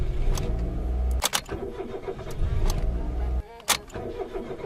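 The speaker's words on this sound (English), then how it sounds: "Turn the car on for 3 seconds." A Suzuki Alto Lapin engine cranks and catches, idles briefly, cuts off, then is started again a few seconds later, close by.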